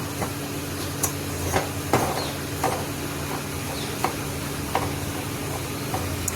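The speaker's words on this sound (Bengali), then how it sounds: "এদিকে দেখুন কি সুন্দর আলুর ঝোল টকবক টকবক করে ফুটছে।" Potato curry boiling in a pot, a steady dense bubbling hiss with soft irregular pops and clicks scattered throughout, close and continuous without any voices.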